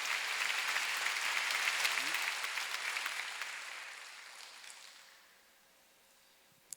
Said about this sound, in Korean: 그때 아버지가 여러분을 기뻐할 걸 믿는 사람만 빨리 박수 영광을 돌리세요.